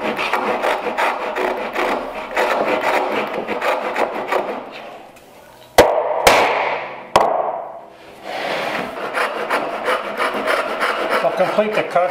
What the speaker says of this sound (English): Complete the cuts with the Ryoba saw